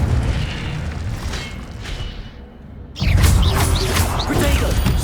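A spell blast erupts with a loud booming whoosh during Hogwarts Legacy combat, a sudden heavy burst after a brief lull followed by crackling, rumbling fire effects, no talk.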